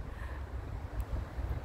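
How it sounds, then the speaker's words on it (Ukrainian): Strong wind in a cold city park in Dnipro rumbles and buffets steadily against the microphone, a low continuous roar with no voices. "І ого, який вітер, ви бачите?"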